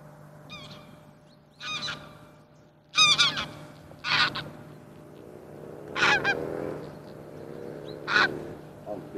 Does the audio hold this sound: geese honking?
yes